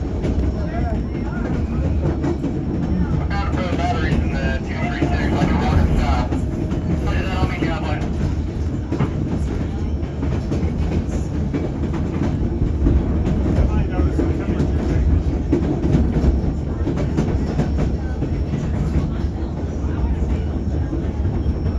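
The White Pass railroad excursion train runs continuously on its rails along the steep Highline section near Skagway, a constant low rumble and rattle of wheels and cars, heard from aboard with an onboard voice speaking over it.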